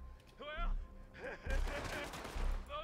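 Gunfire in the western game Red Dead Redemption 2 crackles in quick bursts while a character's voice talks over the shots, the whole mix fairly quiet.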